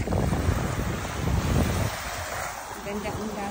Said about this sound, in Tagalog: Yan ang dagat dito.